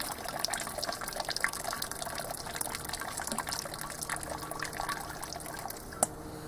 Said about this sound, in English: having a grain bag makes removing the grains quite easy. Let them drain for just a minute.